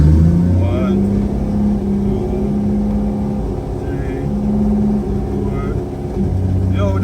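A Mercedes 190E with a swapped BMW 8HP ZF automatic transmission pulls away, its engine note rising and resetting as it steps through the gears, heard from inside the car beneath people talking.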